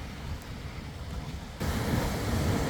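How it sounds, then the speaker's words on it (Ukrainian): Large sea waves surge onto a summer beach, a steady broadband wash that swells louder partway through, heavy with wind rumble on the microphone and with no voices. "Зараз покажу вам хвилі."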